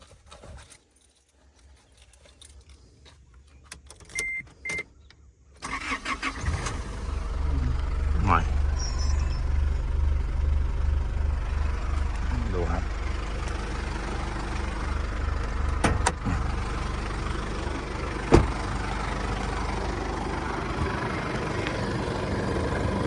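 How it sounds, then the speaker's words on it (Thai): An Isuzu D-Max pickup truck's diesel engine starts after a few seconds of quiet handling noises and settles into a steady, rumbling idle close by, with a loud, pulsing low drone. "ฟังเสียงเครื่องยนต์ครับ"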